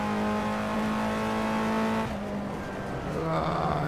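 BMW M6 race car in the rFactor racing game, its engine droning loud and steady with a sustained tonal note, then shifting down and rising again as the car slows and accelerates through corners.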